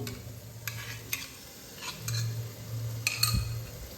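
Whisked yogurt being stirred into cooking masala in a pan over low flame, with a soft sizzle under it and a few light spoon clinks against the pot, no talk.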